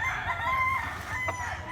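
A big red pumpkin-type rooster, about two years old, crows in one drawn-out call close by, with steady farmyard background noise underneath.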